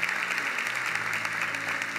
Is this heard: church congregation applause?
yes